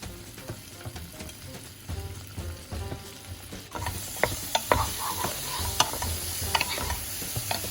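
Frozen beans frying and being stirred in a pan with ginger and garlic powder, a steady sizzle under repeated scraping and clinking of a utensil that grows louder and busier partway through.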